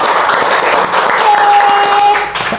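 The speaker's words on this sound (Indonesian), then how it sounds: "Aplaus." Audience applause at an intern talk event, dense clapping that stays steady and fairly loud for a couple of seconds, with a sustained whistling tone cutting through midway and a slight tapering at the end.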